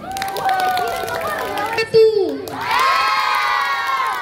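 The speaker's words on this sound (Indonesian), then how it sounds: "Berikan aplaus untuk semua paslon." A crowd of students shouts and cheers loudly at a school student-council candidate debate, a dense, excited roar of young voices close by with shrill yells and bits of clapping throughout.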